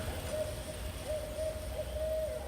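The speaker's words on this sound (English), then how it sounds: "All you can hear is the birds" An owl hoots in undisturbed, quiet wild land, a few soft tonal hoots repeating at a distance over faint background ambience.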